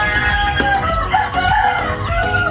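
A rooster crows loudly and close by, its long call rising and falling clearly over a low background.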